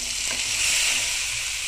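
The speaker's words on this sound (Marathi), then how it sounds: "आता या कढईमध्ये तूप घालून घ्यायचंय, 2 मोठे चमचे, आणि त्याच्यात जे आपण वाटण करून घेतलं होतं खोबऱ्याचं ते एकदम छान भाजून घ्यायचं।" Ground coconut paste roasts in two large spoons of ghee in a wok, giving a loud, close, continuous hiss and sizzle with light stirring throughout.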